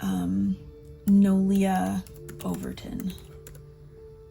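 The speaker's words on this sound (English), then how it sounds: "Let's just type in" Typing on a computer keyboard, fast clicking keystrokes heard beneath a voice that talks through most of the moment.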